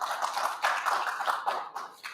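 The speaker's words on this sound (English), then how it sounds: "I want to give Terry a round of applause and thank her for all of her hard work" Audience clapping at a lecture, a dense, steady patter of many hands spread through the room, moderately loud and continuous with no talking.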